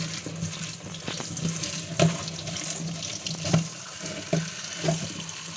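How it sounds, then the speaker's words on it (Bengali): Taro stolons being rinsed under a running kitchen tap, a steady close water stream with soft splashes and occasional louder knocks as the stems are handled. "কচুলতিগুলো ভালো করে আমি ধুয়ে নিচ্ছি, পরিষ্কার জলে সুন্দর করে ধুয়ে নিচ্ছি"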